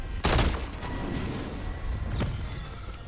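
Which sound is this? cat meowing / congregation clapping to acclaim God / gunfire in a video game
gunfire in a video game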